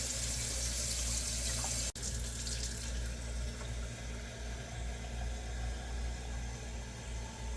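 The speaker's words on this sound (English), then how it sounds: "going to put hot water in the canner." Hot well water runs from a tap into a canner as a steady, even rush that continues without pause, with one brief sharp click early on and no voices.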